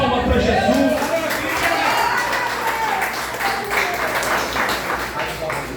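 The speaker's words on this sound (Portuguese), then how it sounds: "Quem crê nisso, dê uma salva de palmas para Jesus." A church congregation at an urban missions service applauds, a dense wash of clapping from a crowd that stays steady for several seconds with voices mixed in.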